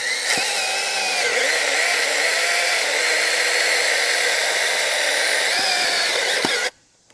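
Sainlogic 6-inch mini chainsaw runs at a steady high-pitched whine as it cuts through wood, close and continuous for about six seconds, then cuts off abruptly into quiet.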